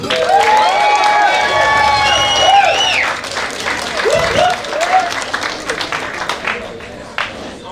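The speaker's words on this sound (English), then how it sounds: "So please give him a big round of applause." Wedding guests break into loud applause and cheering for the father of the bride at Port Lympne Hotel, with whoops and shouts over the clapping before it thins out toward the end.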